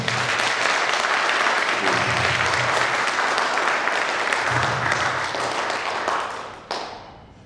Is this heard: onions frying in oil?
no